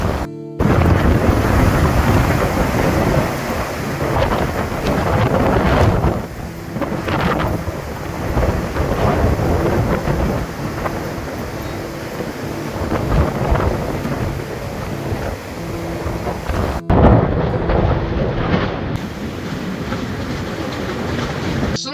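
Hurricane Milton's wind roars over Tampa Bay at St. Petersburg, with waves crashing in a continuous, loud, rushing din that barely lets up.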